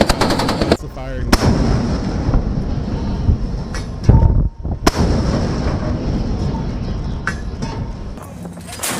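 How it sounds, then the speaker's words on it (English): Loud bursts of gunfire and heavy booms crack through the clip, repeated and irregular with some rapid strings, close and dominant over background noise. "That's the firing."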